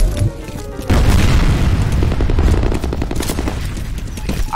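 A grenade goes off in the shooter game F.E.A.R. with a loud, close boom that swells into a long rumbling roar, with crackling gunfire-like bursts trailing away.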